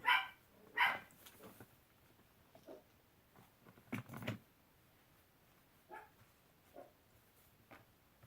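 A dog barks twice in quick succession, then gives a few fainter yips and whimpers scattered across a quiet room.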